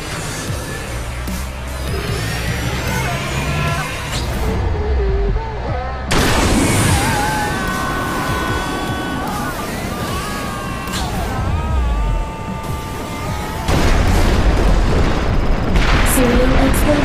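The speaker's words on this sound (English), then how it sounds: "Serial explosions detected. Exceptional damage. Structure collapsing." Serial explosions go off in the ScreamRide game as a structure collapses: repeated loud booms and crumbling rumbles fill the whole stretch, with a synthetic voice announcing over them.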